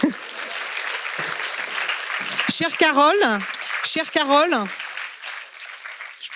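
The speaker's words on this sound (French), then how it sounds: "je vous demande de l'applaudir et de la remercier" An audience at a European conference on apprentice mobility applauds minister Carole Grandjean, a sustained crowd clapping under a voice speaking over it, the clapping persisting beneath and between his words.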